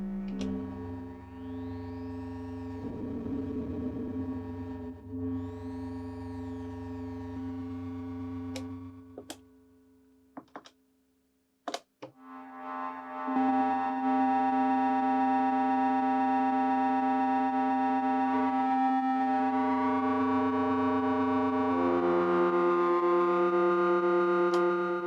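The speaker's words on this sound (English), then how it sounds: "Next up, we've got a ring modulator mode, which again, kind of cool for nice little digital sounds." Roland SH-4d synthesizer in ring modulator mode plays metallic, bell-like digital tones with rich clangorous overtones, sustained notes and a few sharp ticks, shifting pitch partway through after a brief near-silent gap, with no voice.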